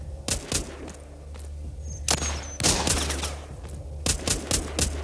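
Shotgun blasts in The Walking Zombie 2 video game, several loud sharp bangs spread across the moment in irregular bursts over a steady low game background hum.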